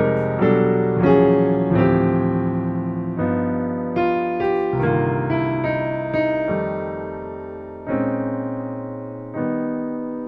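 Piano plays minor eleventh quintal chord voicings that step down chromatically, a series of rich sustained chords struck one after another and left to ring, close and clear with no talking.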